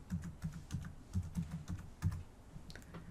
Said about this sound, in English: I typed in 6.math and I will press enter